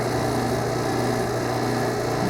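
A vacuum pump drones steadily while evacuating the air-conditioning system of a truck, a loud continuous engine-like whine that holds even throughout with no pauses.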